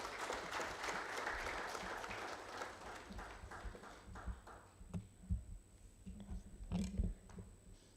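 Audience applause at the UNOC supplier development workshop fills the first half as a dense, steady clatter of clapping, then thins out into scattered claps and soft shuffling.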